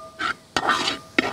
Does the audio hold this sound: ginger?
yes